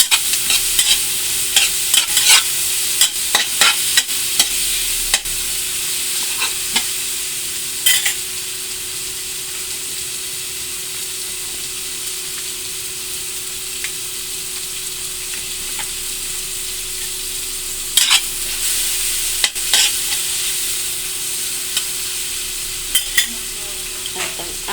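Pork and chicken meat sizzling in a pot for sinigang, a loud continuous frying hiss with scattered clicks and scrapes of stirring, close and steady without any talking.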